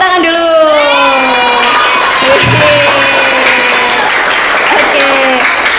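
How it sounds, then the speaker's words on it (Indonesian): Schoolchildren at an elementary school gathering break into loud, sustained applause mixed with excited high-pitched shouts and cheers, a dense crowd sound close by that lasts throughout. "Tepuk tangan dulu."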